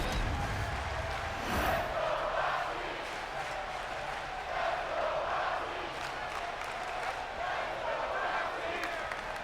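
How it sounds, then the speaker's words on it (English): A virtual arena crowd in the WWE 2K25 wrestling game cheers steadily through a women's steel cage match, a broad roar that swells and dips while a commentator talks over it. "The fans cheering for the prodigy Roxanne Perez."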